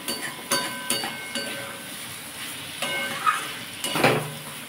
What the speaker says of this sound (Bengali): আলু দিয়ে সব দিয়ে ভালো করে আমি আবার একটু কষিয়ে নেব